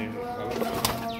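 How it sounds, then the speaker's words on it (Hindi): Kalandari (Teddy) pigeons coo softly at close range, with a short throaty call and a faint rustle of movement in the background. "कलंदरी कबूतर हैं सारे, टैडी कबूतर"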